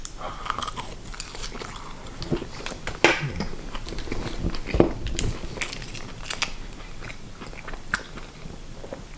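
Crunchy bites and chewing on takeaway fries, close and fairly loud, with several distinct crisp bites amid steady mastication and no speech.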